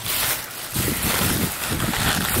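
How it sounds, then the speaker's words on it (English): Wind buffeting a microphone outdoors, a loud roaring rumble that gusts in repeated surges over about two seconds, with no talk. "Oh, it's windy. I hate vlogging when it's windy."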